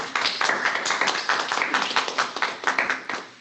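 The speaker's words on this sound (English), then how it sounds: "let's give them another round of applause" Audience applause at an academic scholars symposium honoring students, a dense steady patter of many hands clapping at moderate volume, continuous through the short stretch without talk.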